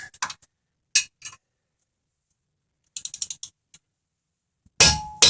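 Metallic ratcheting clicks and clanks from a torque wrench tightening front brake caliper bolts on a 2008 Toyota Sienna to 75 pound-feet, coming in short bursts separated by silence and ending in a louder clattering burst.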